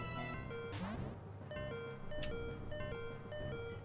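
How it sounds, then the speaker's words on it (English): The low-health alarm in the Pokemon Ruby video game repeats as a steady electronic beep over chiptune game music, fairly quiet. "Sorry for the beeping."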